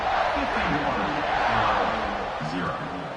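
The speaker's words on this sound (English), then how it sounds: "this crowd is buzzing after that last score" A stadium crowd in a college football video game, Ohio State versus Illinois, buzzes steadily after a score, a dense continuous roar with a commentator talking over it.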